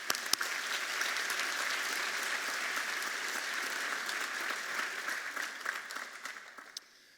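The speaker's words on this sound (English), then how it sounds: "If we could have a round of applause for him." An audience at an architecture and design school commencement ceremony applauds an award recipient, with loud, dense clapping that holds steady for several seconds and then tapers off.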